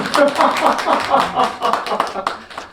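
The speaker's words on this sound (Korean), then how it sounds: "박수를 쳐야지, 박수." A temple congregation at a Sunday Buddhist service claps together, a brisk burst of many hands in an uneven rhythm, close and lively, slowly thinning toward the end.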